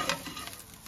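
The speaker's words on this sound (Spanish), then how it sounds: "ahí voy a poner la cebolla y vamos a dejar sofreír" Onion sautés in two spoonfuls of oil in a frying pan, a soft crackling sizzle with a few stirring scrapes, brief and close.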